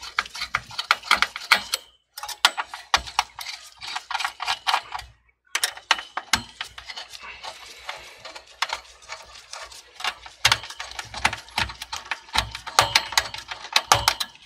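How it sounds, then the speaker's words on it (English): A captive screw on an HP TP01 desktop's CPU fan being unscrewed gives dense, rapid, close-up clicking and ratcheting ticks that run almost continuously with short pauses, with no talking. "when you hear that little clicking sound, that means you have reached to the very top and the screw will just stays on"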